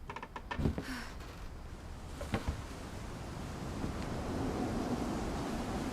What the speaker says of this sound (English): It's getting dark and windy.